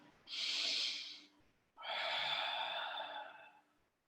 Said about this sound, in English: Breathing in through your nose and out through your mouth.